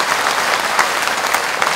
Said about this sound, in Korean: 세가족 박수로 환영하겠습니다.